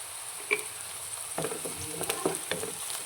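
Onions frying in a pan with cumin and mustard seeds crackle over a constant hiss of oil, with a few sharp pops and spatula scrapes at close range.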